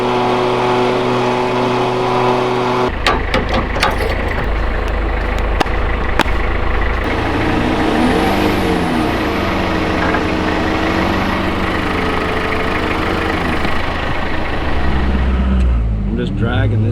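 Heavy, steady engine drone from a Toyota Hilux 4x4 in deep mud, loud and continuous with strain and revving shifts, as a winch drags the truck back, with voices talking over it.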